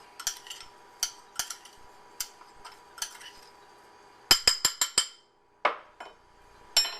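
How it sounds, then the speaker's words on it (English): Dipping sauce ingredients with salt stirred in a bowl for white chicken, a utensil clinking against the dish in a quick series of sharp, close taps with short pauses between bursts. "Now what you're going to do is you're going to mix this all up."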